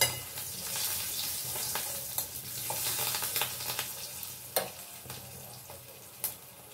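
Fennel seeds and green chillies crackle in hot oil, a close sizzling hiss dotted with sharp pops and spits that flare and fade over several seconds, with no talk.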